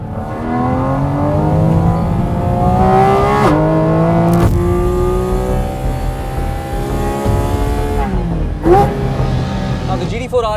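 A high-revving Porsche 718 GT4 RS engine climbs steadily through its gears on a highway, pitch rising and dropping with each shift, loud and close throughout.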